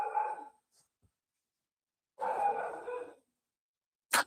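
Dogs roaming loose on a rural property with cows and pigs give short nasal whines and barks in separate bursts, moderately close with silence between them.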